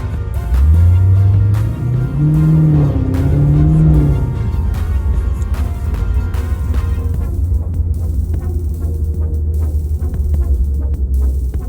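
A 2019 Dodge Charger Hellcat engine revs loud and close, rising and falling twice, then settles into a steady heavy rumble as the car drives, with no talk.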